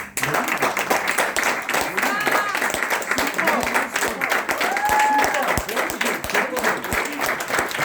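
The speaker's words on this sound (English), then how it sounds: "Round of applause for Toastmaster Vicky Shaw" A Toastmasters audience gives a speaker a round of applause: steady, moderately loud clapping from a modest crowd, with a few distinct individual claps standing out and some murmuring voices underneath.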